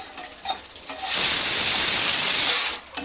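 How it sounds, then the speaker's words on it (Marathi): A pressure cooker cooking rice lets off its whistle: a loud, steady rush of hissing steam that swells up, holds for about a second and a half, then fades. "इथे माझा भातही आता कुकरची शिटी होते"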